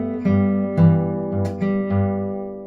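Acoustic guitar fingerpicked in the style of a song's chorus, with a steady alternating pattern of plucked notes ringing over a sustained low bass, close and clear with no voices.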